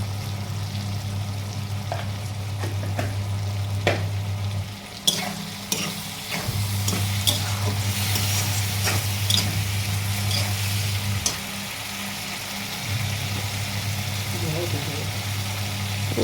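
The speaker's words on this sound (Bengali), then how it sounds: "দিয়ে ভালো করে কষিয়ে নিতে হবে মশলাটা।" Cumin and chili powder masala being sautéed and stirred in a pan for a Bengali katla fish curry, with a low steady sizzle and scattered scraping clicks under a constant low hum.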